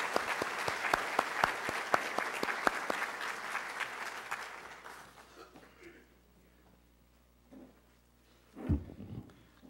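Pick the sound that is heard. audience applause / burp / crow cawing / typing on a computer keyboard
audience applause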